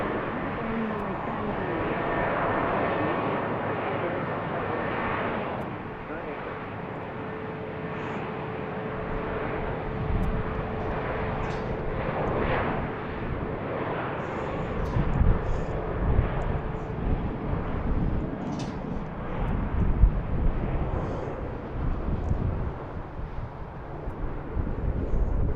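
A Southwest airliner departs from BWI airport, its jet engine roar building steadily and swelling louder toward the end under a broad wash of wind noise.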